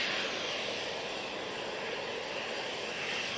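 KLM Embraer jet taking off at Manchester Airport, a dense, steady engine roar with a strong hissing whine, sustained and fairly distant throughout, no voices.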